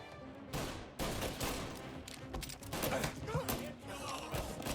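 Gunfire in the video game Mafia Remake comes in dense bursts of loud close shots and thuds that continue through the whole stretch.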